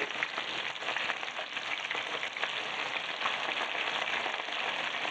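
Meatballs frying in a pan, a dense, steady sizzle and crackle of hot oil close up that holds evenly throughout, with no voices.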